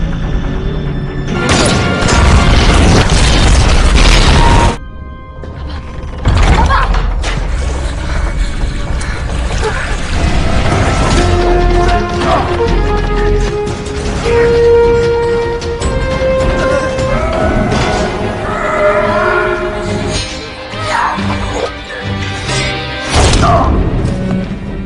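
Fight scene from the 2016 Jackie Chan action comedy Skiptrace, with loud thuds, crashes and impacts over dramatic film music, dense and continuous with a brief break partway through.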